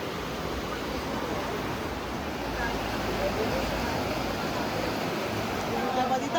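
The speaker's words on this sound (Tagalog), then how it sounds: "lakas ang tulo ng tubig ah" Brandywine Falls in British Columbia pours down in a steady, dense roar of rushing water, loud and continuous for the whole stretch without pause.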